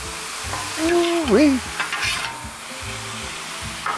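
Chicken and shrimp stir fry with water added on a hot Blackstone griddle, sizzling and scraping steadily up close while a person calls out an excited exclamation partway through.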